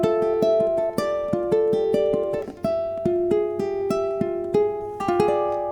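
Ukulele Travis-picking etude in its second ending, steady alternating bass notes under plucked melody notes with ringing chords, played solo and close at an even moderate tempo.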